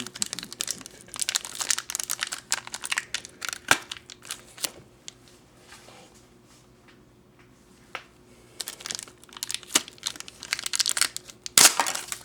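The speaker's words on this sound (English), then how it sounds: "open up this collector card here." A collector trading card's plastic wrapper is torn and crinkled open in close bursts of crumpling and crushing, with a quieter pause midway and sharp snaps near the end.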